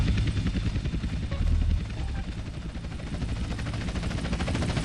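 Dense, steady rotor and engine roar from a helicopter in the video game GTA San Andreas fills the scene, with rapid rhythmic pulsing and a brief louder swell near the start.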